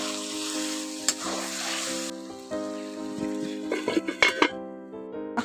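Chicken frying in spices in a karahi, sizzling steadily while a utensil stirs and scrapes the pan with intermittent clinks of metal, close and clear with no talk.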